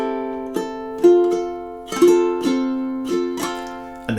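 A ukulele plays measures 15 and 16 of a song, repeating earlier bars: about eight clear plucked strums and picked chords in a slow, even rhythm, close and alone, each note ringing and decaying.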